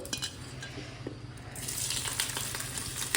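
Paneer fries in ghee in a pan with a steady, close sizzle that grows denser and louder partway through, broken by small crackles and light stirring clinks.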